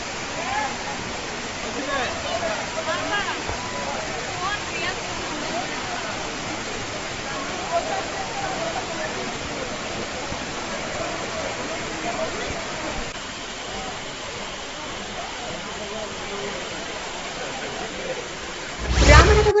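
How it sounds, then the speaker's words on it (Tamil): Water pours down Courtallam Main Falls after rain, a steady broad rushing roar that fills the whole stretch at constant strength, with faint voices mixed underneath and a brief louder burst at the very end. "இதனால் மெயின் அருவியில் தண்ணீர் கொட்டியது"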